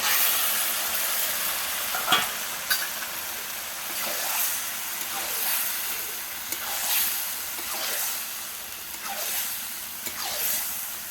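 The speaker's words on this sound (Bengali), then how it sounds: "দেখো বন্ধুরা চিকেনটা কষা হচ্ছে, কত সুন্দর একটা কালার এসেছে।" Marinated chicken sautéing in a spiced masala for Gondhoraj chicken curry, giving a steady close sizzle and hiss broken by repeated stirring scrapes every second or so.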